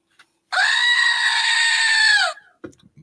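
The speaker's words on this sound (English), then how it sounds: "I don't want to hear a goat." A goat lets out one long, loud, human-like scream lasting about two seconds, close and clear in an otherwise quiet space, followed by a few faint clicks.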